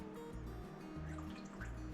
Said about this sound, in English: I'm just going to put a couple of drops in there.